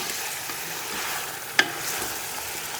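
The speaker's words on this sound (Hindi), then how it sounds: "ये तो मेरा प्याज तो मेरा भुना हुआ है ना, मैंने बस इसको मिक्स करना है, जस्ट मिक्स करना है।" Fried onion and masala for mutton korma are stirred in a pot, giving a steady sizzling hiss with a single sharp scrape of the spoon partway through.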